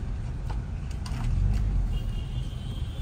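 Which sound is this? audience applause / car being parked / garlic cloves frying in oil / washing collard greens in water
car being parked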